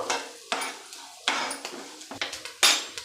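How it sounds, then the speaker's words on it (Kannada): Coriander fries in a pan for hotel-style idli sambar, heard as a series of close metal scrapes and clinks from stirring, each followed by a short hiss of sizzle, with no talk. "ಈಗ ಧನಿಯಾ ಸೇರಿಸ್ಕೊಳ್ತಾ ಇದ್ದೀನಿ, ಫ್ರೈ ಮಾಡ್ಕೊಳ್ಬೇಕು."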